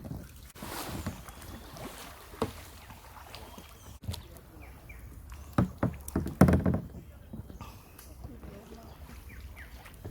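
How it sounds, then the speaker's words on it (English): Canoe paddled through water in a Surinamese nature park, with soft splashes and paddle knocks, a burst of louder water and hull noise midway, and wind buffeting the microphone; people talk nearby. "Don't try to paddle, Tani."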